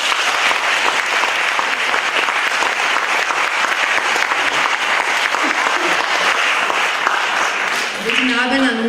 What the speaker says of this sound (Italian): vi pregherei di rinnovare l'applauso agli ospiti e ai nostri